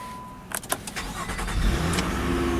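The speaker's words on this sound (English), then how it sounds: "hit the engine start button" A 2013 Infiniti JX35's Nissan V6 engine cranks briefly with a few sharp clicks after a push-button start, then catches and settles into a smooth, steady idle, heard up close.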